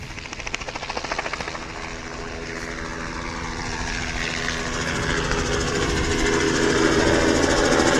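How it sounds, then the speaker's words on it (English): Helicopter hovering and taxiing at Manchester City Airport, a steady loud rotor and turbine roar that holds throughout and swells slightly toward the end, with no voices. "Heli's on the hover taxi out."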